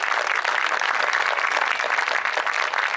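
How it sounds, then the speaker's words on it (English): Steady round of applause from a ceremony crowd welcoming Army enlistees on Defenders Day, an even wash of clapping at moderate level with no pauses, heard alone. "Let's give them a round of applause again."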